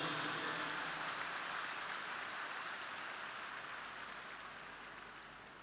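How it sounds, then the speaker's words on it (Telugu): Large stadium audience applauding a birthday greeting for Dr. Satish at a thanksgiving meeting in LB Stadium, Hyderabad; dense, steady clapping from a big crowd, slowly fading over several seconds with no talk. "సోదర సోదరీమణులందరూ పెద్ద ఎత్తున చప్పట్లతో డాక్టర్ సతీష్ గారికి జన్మదిన శుభాకాంక్షలు తెలియజేయాల్సిందిగా కోరుకుంటున్నా"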